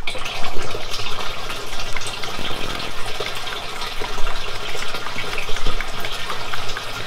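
Used cooking oil pours steadily into a bio-diesel processor through a screen, a loud continuous gushing and splashing liquid rush with no pauses.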